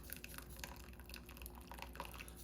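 Dark beef broth drips through a fine chinois strainer in a home kitchen, a quiet scatter of small irregular drops and trickles over a soft steady hum.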